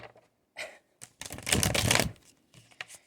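Tarot cards being shuffled by hand in quick riffling bursts, a longer dense flurry in the middle, close and crisp with quiet gaps between.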